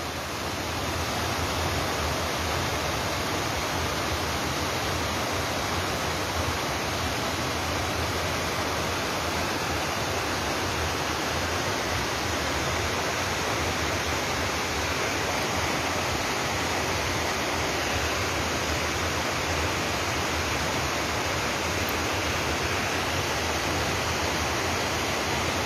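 The Ağbulaq mountain spring at Minkənd village in Laçın district pours out with a steady, dense, close rushing of water that continues unbroken throughout, with no voices.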